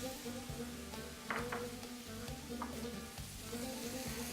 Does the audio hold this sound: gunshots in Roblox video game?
no